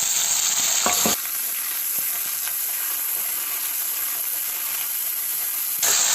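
Raw chickpeas fry in a hot pan with ginger, garlic and green chilli, a loud constant sizzle punctuated by the scrape of stirring, with sharper hiss bursts at the start and end.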